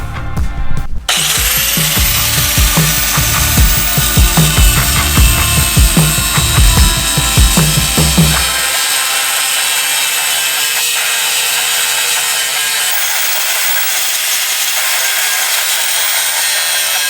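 A loud power saw cuts steadily through a bump stop area on a 2016 Toyota Tacoma up close, grinding for several seconds before dropping to a quieter whirring run-down.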